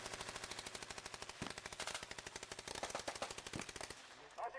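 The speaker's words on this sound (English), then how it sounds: "that Browning is a very reliable weapon indeed" A Browning machine gun fires long, rapid bursts at a WW2 battle reenactment at Old Sarum. The shots come in a loud, steady, evenly spaced rattle, close by, with a few heavier reports mixed in before a short pause near the end.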